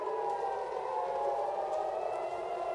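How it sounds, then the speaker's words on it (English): A civil-defense-style siren wails steadily in the video game Far Cry 6, a sustained, slightly wavering tone heard at a distance with no talk. "We're hearing sirens."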